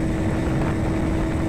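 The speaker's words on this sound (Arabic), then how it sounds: "الموتوسيكل ماشي 140 هتلاقيه طالع طالع برضه" Dayun STS 400 motorcycle racing at high speed on a highway, a loud, steady engine roar blended with heavy wind rush, constant and close throughout with no talking.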